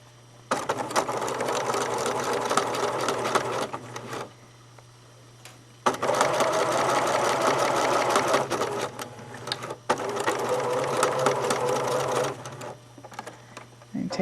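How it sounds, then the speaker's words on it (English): A sewing machine stitches fabric strips with a quarter-inch seam, whirring in three fast bursts of rapid needle chatter separated by short pauses, with a steady low hum beneath and a voice speaking briefly between runs. "we're at the sewing machine now, and what I'm going to do is sew these together with 1/4 of an inch seam allowance"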